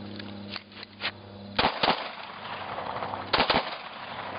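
Gunfire during a night firearms training drill moving from long gun to pistol: scattered sharp, loud close shots, with quicker pairs of reports near the middle and end and a low hum underneath.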